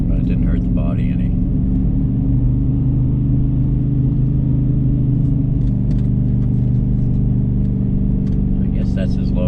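A car crawls along a mountain road in its lowest gear, its engine holding a steady low droning rumble throughout, with faint voices talking over it.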